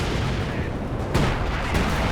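Artillery barrage called down from a commander ability in Company of Heroes 2, a dense, continuous rumble of distant shelling with two heavier impacts bursting through near the end, no talk.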